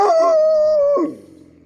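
A dog lets out a single close, sustained howl lasting about a second, then trails off into quiet.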